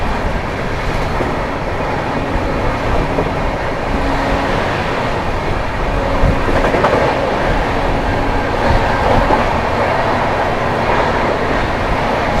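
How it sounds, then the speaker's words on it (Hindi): Mumbai LTT–Patliputra Superfast Express running through near Chunar Junction, a steady loud rumble of wagons with faint clickety-clack carried for the whole stretch and no voices. "सामने से आ रही है Mumbai LTD Pataliputra superfast express"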